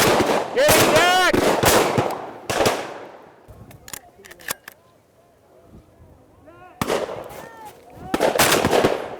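Shotgun blasts on a bird hunt ring out sharply in the open, with a few reports and their echoes. Excited voices shout and talk around the shots, and a dog is called.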